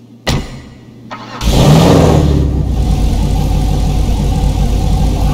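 In GTA 5, a Cheval Fugitive sedan gives a brief click, then its engine fires up with a loud rev and settles into a strong, rumbling exhaust idle, with no talk.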